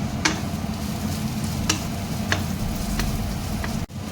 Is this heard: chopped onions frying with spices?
yes